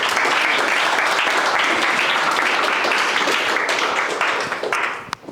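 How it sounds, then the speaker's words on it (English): An audience at a fall general body meeting breaks into sustained applause for a speaker, a thick roomful of hands clapping at steady volume before thinning out and fading at the end. "Everyone, give a round of applause, please, for Mr."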